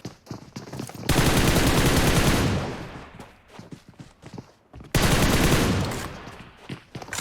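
Video game gunfire aimed at a demon comes in two sustained bursts of rapid shots, loud and close, separated by a short lull with lighter clicks and movement sounds.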